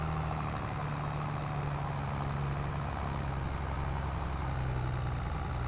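A small farm tractor engine labors continuously uphill under a heavy load on an Iowa farm, a loud, steady low drone with no break.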